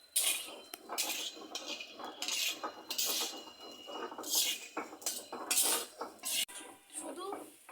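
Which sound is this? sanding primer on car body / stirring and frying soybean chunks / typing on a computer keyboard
stirring and frying soybean chunks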